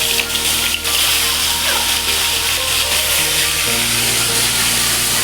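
Bata fish dropped into hot oil, setting off a loud, steady sizzle and bubbling that carries on without a break in a home kitchen, with some background noise.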